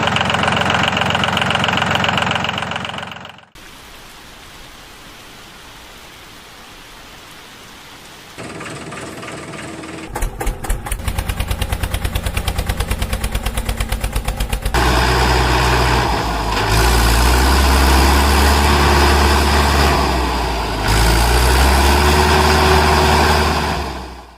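A homemade DIY tractor engine idles and revs while stuck in mud, a loud steady chugging drone that drops away briefly, then returns with rattling knocks and a heavier rumbling roar.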